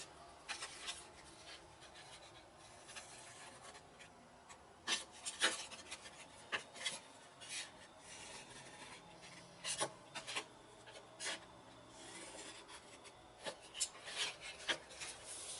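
A knife or box cutter slicing a wedge from cardboard box flaps, heard as scattered close rasping and scraping strokes over faint background, with brief bursts more frequent in the second half.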